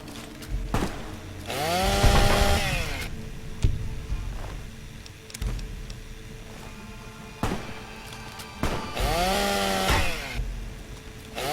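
A chainsaw weapon in Fallout: New Vegas revs in two loud rising bursts and idles between them, with sharp impact thuds scattered through a rough mechanical drone.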